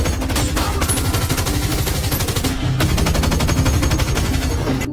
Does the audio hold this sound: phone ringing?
no